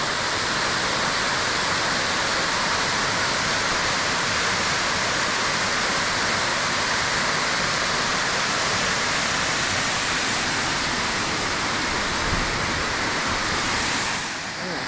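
Spruce Flats Falls pours in a steady, loud broadband roar that stays constant and close throughout, with no pauses or breaks in the rushing water.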